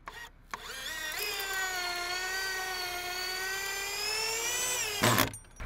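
A power drill drives screws into the logs of a second-story log cabin wall: one sustained, high whining run lasting several seconds that rises slightly in pitch as the motor spins up, holds steady, then stops abruptly.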